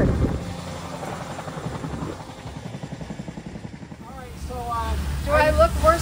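A tandem-rotor helicopter's rotors thump rhythmically as it passes overhead, loudening toward the end, while people talk underneath.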